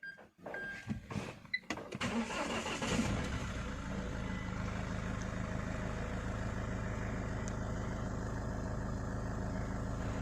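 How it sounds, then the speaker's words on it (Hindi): Mahindra SUV500 diesel engine cranks with a few brief starter bursts, then catches and settles into a steady, even idle that runs on close up. "तो हम अभी इंजन को थोड़ी देर के लिए स्टार्ट रखेंगे"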